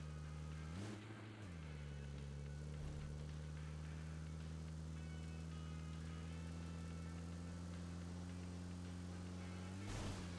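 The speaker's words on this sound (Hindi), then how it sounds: "हाँ गाड़ी की आवाज" Vehicle engine in PUBG, a steady droning hum that rises briefly near the start and again near the end, faint and held at a constant pitch between.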